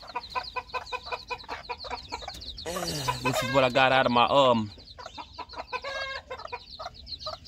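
A red hen clucks among a brood of small chicks, thin repeated peeps running throughout while the hen lets out a louder, drawn-out burst mid-way; someone speaks briefly nearby.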